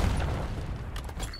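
Frag grenade and flashbang blasts in a Call of Duty Black Ops 6 Domination match on Nuketown, heard as a continuous low, heavy rumble with faint crackle above that slowly settles.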